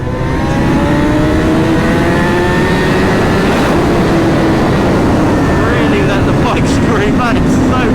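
A 2011 Honda CBR1000RR Fireblade Hutchy edition pulls hard on a dual carriageway, its engine note climbing through rising whines and shifts under a constant loud roar of wind buffeting.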